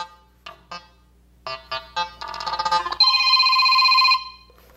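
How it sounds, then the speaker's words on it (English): A ringtone plays through the built-in speaker of an ONDA V919 3G Air tablet at maximum volume: a few short melodic chirps, then a denser run of tones and a sustained, loud beeping ring that stops abruptly near the end. "Some of these ringtones are going to be a little bit louder"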